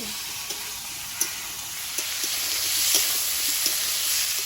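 Tomato goes into a sizzling frying pan of vegetables for a fish curry, making a continuous hissing fry with light, sporadic taps and clicks from stirring throughout.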